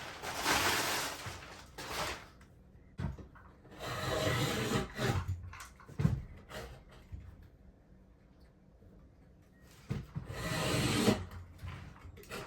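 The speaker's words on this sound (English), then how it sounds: "I'm going to cut some strips of this matting" Fibreglass matting cut into strips at close range, heard as scattered rustling, snipping and scraping bursts with quiet pauses between cuts.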